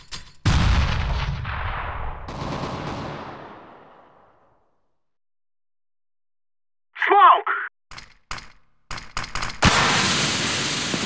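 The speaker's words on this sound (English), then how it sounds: "I'm throwing a grenade!" In the shooter game CS:GO, a loud blast booms and fades out over several seconds. After a short silence, a quick whoosh of a thrown grenade comes, then sharp clicks and a rising rumble of gunfire.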